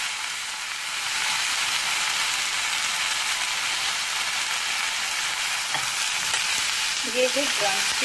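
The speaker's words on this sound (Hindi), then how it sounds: "बस जीरा प्याज मिर्ची का तड़का दो" Loud, continuous sizzling of cumin, onion and chilli frying in hot oil for a tempering, a steady crackle close by with a brief stir toward the end.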